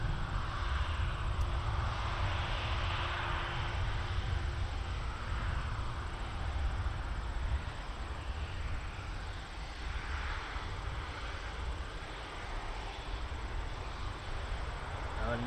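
A Condor Boeing 777-200 taking off from Toronto Pearson for Heathrow produces a heavy, continuous engine roar and low rumble heard from a distance, steady throughout and slowly easing.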